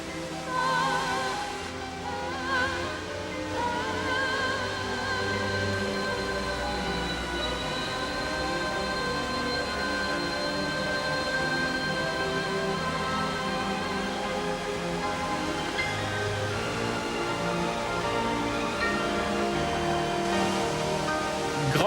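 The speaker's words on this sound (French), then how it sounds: "Les cascades, parmi les plus belles de l'île." Waterfalls cascading on Réunion island, a steady, dense rush of falling water that holds constant throughout with no voices, with faint tonal music-like lines layered over the roar.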